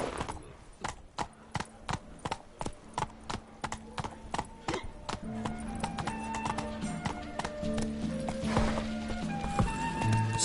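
Roach, the horse in Witcher 3: Blood and Wine, galloping with rapid, evenly spaced hoofbeats up close, followed by a denser stretch of hooves mixed with game sounds and music.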